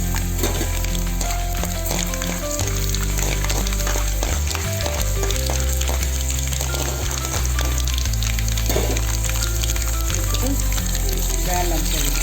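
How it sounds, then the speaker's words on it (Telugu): Chana dal sizzles and fries in hot oil with mustard seeds, a steady crackling hiss filling the whole stretch at close range with small pops throughout. "ఆవాల్లోనే ఈ శనగగింజలు వేసి ఒక 2 నిమిషాల పాటు వేగనివ్వాలి."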